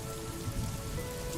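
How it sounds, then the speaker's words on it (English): Gentle rain falls steadily on surfaces as a soft, even patter that stays constant throughout, with no voices. "allow yourself to be carried away by the soothing cadence of the rain song"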